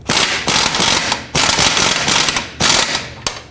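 A ratchet snugs up a rear bolt on a Toyota Camry control arm in loud, rapid clicking bursts. Four strokes follow one another closely, each a dense run of pawl clicks with short pauses between.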